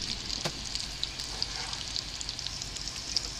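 Halved potatoes fry cut side down in olive oil and butter in a very hot pan, with a dense, continuous close sizzle and crackle with small scattered pops and no talking.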